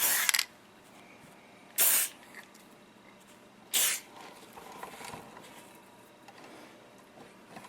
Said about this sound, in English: I'll just spray some grease, pretty good amount on the spring